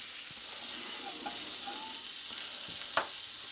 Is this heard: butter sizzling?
yes